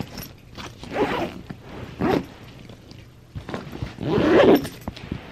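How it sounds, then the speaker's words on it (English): A zipper closes a shoe bag in a few separate close, loud pulls with quiet gaps between them, and no one speaks. "but then you just zip it up."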